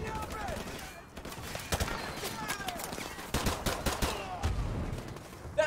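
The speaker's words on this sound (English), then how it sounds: "Suppressing fire!" Rapid bursts of video game gunfire crackle in repeated volleys, sharp and fairly close, with voices talking over the shooting throughout.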